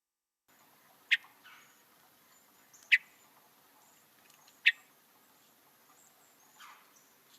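Swainson's thrush giving its somewhat nasal "quip" call note, repeated three times at even intervals of nearly two seconds, each a sharp, short note over a faint, quiet outdoor background.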